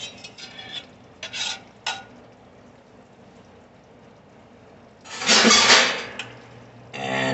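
A metal spatula scrapes meatball fat and grease out of a frying pan in a home kitchen, with short scraping strokes, then a longer, louder rasping scrape and a final scrape.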